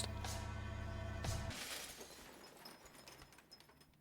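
Glass shatters loudly in the psychological horror game Fears of Phantom, a sharp crash at about one and a half seconds followed by fading tinkling debris, with no talk.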